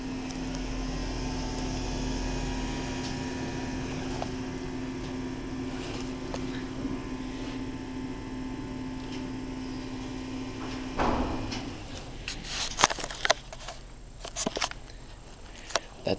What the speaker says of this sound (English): This is an older Dover motor sound.